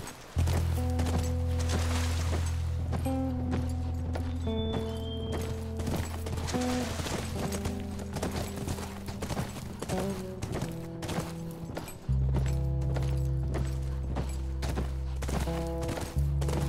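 Horse hooves clip-clop rhythmically at a steady pace while riding in The Last of Us video game, under sustained background music tones.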